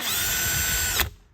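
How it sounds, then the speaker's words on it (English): Power drill spinning out T30 Torx fasteners from a Ford Bronco interior panel, a steady high motor whine lasting about a second before cutting off abruptly. "These are T30 fasteners here that we'll just use our drill to"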